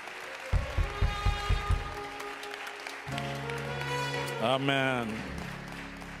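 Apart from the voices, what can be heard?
congregation applause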